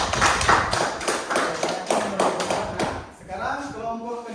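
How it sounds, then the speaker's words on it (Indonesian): Students in a classroom clap together in a dense, sustained burst of applause that tapers off, with a voice speaking over the last part. "Beri tepuk tangan yang meriah untuk temannya."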